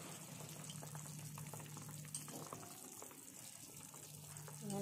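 Water boils at a steady roll in a cooking pot on the stove while fenugreek greens and fish are readied, giving a continuous close bubbling hiss with no voices.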